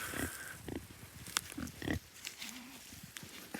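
Kunekune pigs grunting and snuffling outdoors on a homestead, a few short low grunts scattered through ambient noise, close by and fairly quiet, with no talk.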